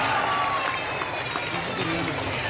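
Applause for the men in the audience at a Maulid Nabi gathering in a mosque: a crowd claps steadily and densely throughout, with scattered sharper claps and some cheering mixed in.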